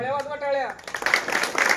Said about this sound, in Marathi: टाळ्या एकदा जोरदार होऊ द्या